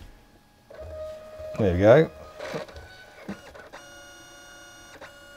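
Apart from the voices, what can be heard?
Canon Selphy 760 photo printer printing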